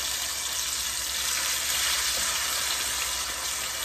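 Greens paste, ground with onion, cumin and bay leaf, frying in a hot pan, a steady broadband sizzle running close and unbroken throughout.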